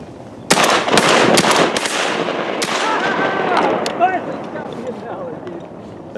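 Shotgun blasts during a Virginia quota duck hunt in freezing conditions, several sharp loud reports in quick succession near the start, followed by excited voices talking and ducks calling.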